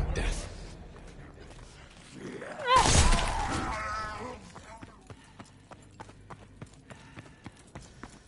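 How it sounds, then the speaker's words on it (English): Horse hooves clip-clop in Call of Duty WW2 Zombies, coming as a steady, evenly spaced series of hoofbeats in the second half after a louder burst of voice and game effects. "Your pale horse awaits."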